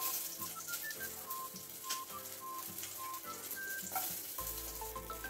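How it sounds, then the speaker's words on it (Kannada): Slit green chilies frying in oil in a kadai for vada pav, a soft, steady crackling sizzle with scattered light pops and faint tonal hum underneath. "ಇವಾಗ ಮೆಣಸಿನಕಾಯಿ ಚೆನ್ನಾಗಿ ಫ್ರೈ ಆಗಿದೆ"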